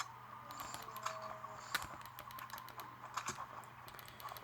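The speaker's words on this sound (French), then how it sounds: "Je suis obligé d'appuyer sur le deuxième bouton pour changer d'arme." Computer keyboard keys pressed while switching weapons in a PC game, a quick irregular run of close, crisp clicks and taps continuing throughout with no talk.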